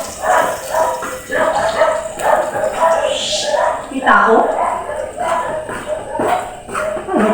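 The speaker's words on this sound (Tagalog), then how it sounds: "Kasi maingay yung mga aso" Dogs bark repeatedly in short bursts nearby, mixed with yips, while a person talks over the noise.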